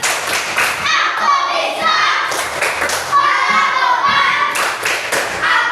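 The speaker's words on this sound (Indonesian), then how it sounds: "Tepuk semangat." Fifth-grade classroom doing a rhythmic spirit clap together, children's sharp hand claps and thumps in patterned bursts mixed with kids' voices speaking and chanting throughout.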